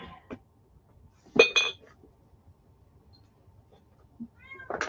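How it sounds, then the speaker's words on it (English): Pet cat meowing at a closed door to be let into the room, two or three short meows alone in a quiet indoor space, with a faint clink of glassware. "My cat is actually picking away at my door right now to come in here."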